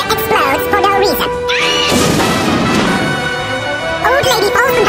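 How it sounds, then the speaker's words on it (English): A sped-up sound-effects record plays a parrot exploding, heard as a sudden harsh crashing burst lasting about a second, loud against fast, warbling, unrelated music. "Parrot explodes for no reason."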